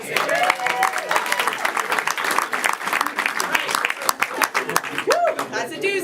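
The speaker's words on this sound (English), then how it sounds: "Clap for all those things." Game-show studio audience applauds and claps steadily, with cheers and chuckles mixed in and voices talking over the clapping throughout.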